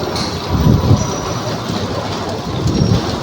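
Heavy rain pours down during a tricycle ride in Lopez, a dense, steady roar of falling water with rumbling vehicle noise underneath.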